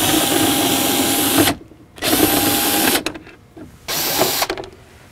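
Power tool spinning out T27 bolts from the lower door trim pocket of a Ram ProMaster van, three loud whirring bursts separated by short quiet gaps with small clicks.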